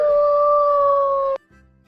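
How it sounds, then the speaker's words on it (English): A single long, steady howl from a fox, loud and close, holds one pitch for over a second and then cuts off abruptly. "Fox."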